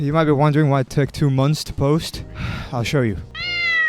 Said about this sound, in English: He's just a street cat.